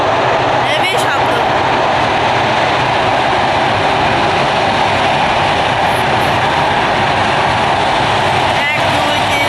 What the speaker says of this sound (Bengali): ট্রেন আসছে এবার পদ্মা সেতু দিয়ে, পদ্মা সেতুর উপর উঠবে